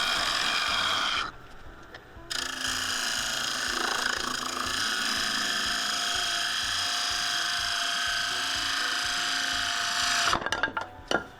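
A woodturning tool cuts into a spinning piece on a lathe, heard as a steady close scraping whir that drops out briefly and resumes before breaking into rougher, choppier cuts near the end.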